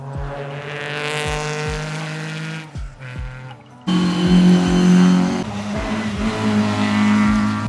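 Volvo rally car on a historic rally stage: engine revving hard through gear changes, briefly dipping, then roaring loud and close as it accelerates past.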